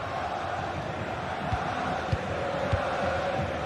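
Stadium crowd in a GT Sport league race broadcast, a steady, loud wash of massed voices roaring throughout, with a few brief thumps rising out of the din.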